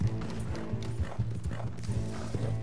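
Horse hooves gallop in a video game, a fast, steady clip-clop rhythm close and clear, with faint background game sound beneath.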